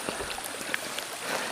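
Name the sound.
babbling water of stream near waterfall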